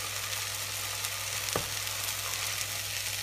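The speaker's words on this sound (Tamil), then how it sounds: "இப்போ சாம்பாருக்காக ஊற வச்சிருந்த புளியை வந்து இப்போ சாம்பாரில் கலக்க போகிறோம்." Soaked tamarind extract being stirred into a pot of sambar: a steady, even sizzling wash with a faint scrape partway through, continuous and close, with no talking.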